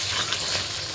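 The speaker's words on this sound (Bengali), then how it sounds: "মাংস কষা হচ্ছে।" Chicken sizzles steadily in a pan while being fried and stirred for Bengali kosha, a loud, continuous hiss close by with no voices.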